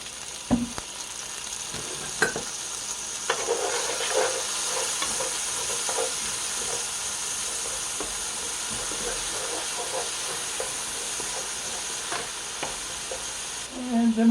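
Minced garlic sizzling in hot olive oil in a pan, a steady, even hiss with occasional soft clicks of stirring, close and fairly quiet throughout.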